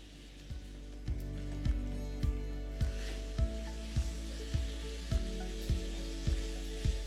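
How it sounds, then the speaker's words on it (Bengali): Fried soybean chunks are stirred into a sizzling curry masala in a pan, with a steady frying hiss underneath and a regular series of scraping spoon strokes, about one every half second, close and alone. "ব্যাস তখন এখানে আপনারা দিয়ে দিন সোয়াবিনটা, যেটা আমরা আগে থেকে ভেজে রেখেছিলাম।"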